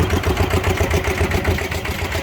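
A Yanmar 120 DI diesel engine on a cassava grinder truck runs close by, a loud, steady chugging idle with a fast, even beat and no talk.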